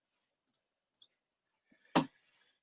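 A few faint, scattered mouse clicks are followed by one louder, crisp click, heard alone in a quiet room during online ordering page setup.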